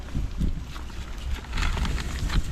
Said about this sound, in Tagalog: Hangin na naman yung naririnig